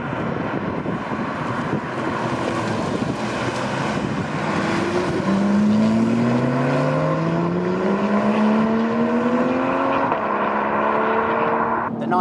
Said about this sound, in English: Really hear that engine behind, which possibly sounds a little bit more angry